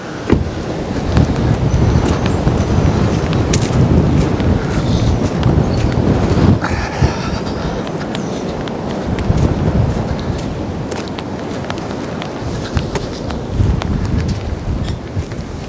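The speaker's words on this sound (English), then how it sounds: "Stay out of the wind today. 60 mile an hour." Strong wind of about 60 miles per hour buffets a microphone on a farm with draft horses, giving a loud, continuous rumbling roar with gusty surges and no pause.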